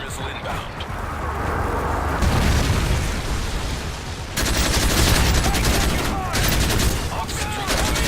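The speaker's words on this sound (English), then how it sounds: "Friendly Predator missile inbound." Predator missile blasts and gunfire in Modern Warfare 3 survival mode roll on as dense, continuous booms and rattling bursts that swell louder midway, with game voice callouts over the barrage.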